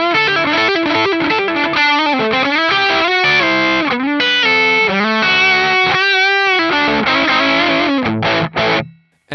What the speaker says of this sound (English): as you turn the gain control up, what's going on with the amp is it's adding a lot of low end